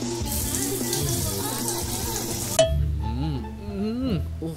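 Tap water runs in a steady stream, with a sharper splash as the flow changes partway through, while a person's voice is faintly heard over it.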